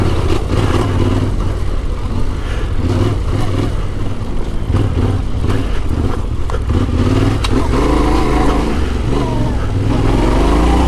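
Yamaha Tenere 700 adventure motorcycle riding through slick mud, engine droning loud and close throughout with steady low rumble and shifting revs.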